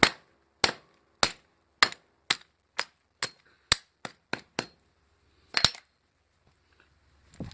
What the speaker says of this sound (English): Just wrap it in a towel, a rag, and it's hammer time.